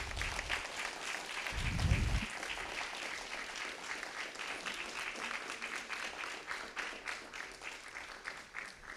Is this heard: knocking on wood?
no